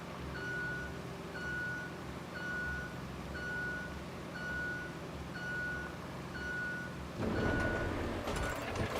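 Truck reversing alarm from the off-road driving game Roadcraft beeps steadily about once per second over a low engine rumble, with a louder burst of engine and mechanical noise near the end.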